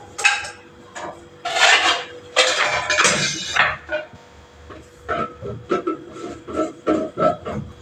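Dishes and metal utensils are handled in a home kitchen, with irregular clinks, clatters and knocks in bursts, close and fairly loud.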